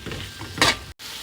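A ladle scrapes and stirs through food seasoned with soy sauce in a hot pan, with a brief louder scrape over a faint sizzle before it cuts off.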